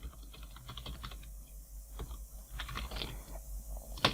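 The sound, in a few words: typing on a computer keyboard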